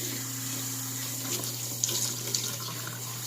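Tap water running steadily while hair is rinsed during a shampoo, a constant close splashing flow with a couple of brief louder splashes.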